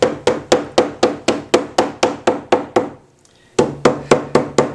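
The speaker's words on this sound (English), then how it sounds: "with a hammer hit between the kettle stitches just lightly" Rapid, even hammer taps strike a bound book's spine between the kettle stitches, about fifteen crisp knocks in a steady rhythm, broken by one short pause before the tapping resumes.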